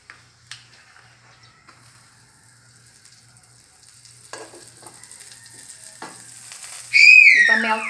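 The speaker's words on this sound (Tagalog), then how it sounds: "Ipa-melt ko yung butter or yung margarine, ipa-melt." Butter or margarine melting in a pan for a seafood platter gives a soft, steady sizzle at moderate distance, with a brief sharp hiss and clatter near the end as the fat heats.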